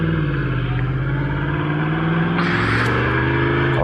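A 2018 Yamaha R1 sportbike fitted with an Akrapovic Evolution Line full exhaust system runs steadily under the rider, a loud continuous engine drone with a pitch change partway through as it accelerates, heard with strong wind noise and no talking.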